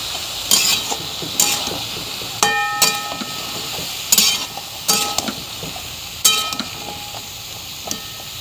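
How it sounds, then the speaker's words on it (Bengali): Vegetables stirred and frying in a pan: a steady sizzle with repeated sharp scraping clinks of a spatula against the metal, coming in irregular bursts every second or so, close and fairly loud, no talking. "অনেকটাই সবজি দিয়েছি একটু নাড়াচাড়া করে নেব"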